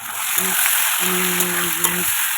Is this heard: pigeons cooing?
no